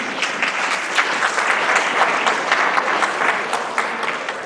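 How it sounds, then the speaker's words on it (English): A room full of school staff applauds at a professionalism talk, dense, steady clapping holding at an even loudness for several seconds without speech over it. "Can y'all clap it up for that, please?"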